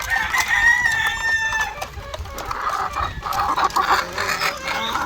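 White Leghorn crossed with Black Australorp chickens cluck and crow close by on a farm, in a loud, continuous flock chorus with overlapping calls.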